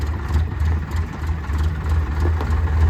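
A tractor engine runs in a farm field, a steady low throbbing rumble close by that holds an even level for the whole short stretch with no talk over it.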